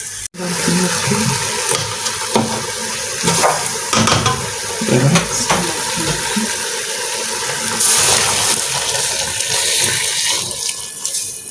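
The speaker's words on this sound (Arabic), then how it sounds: "مية مغلية يا جماعة دي." Boiling water poured into a cooking pot for a grilled chicken recipe, a loud, steady splashing gush that carries on for several seconds, with no voices.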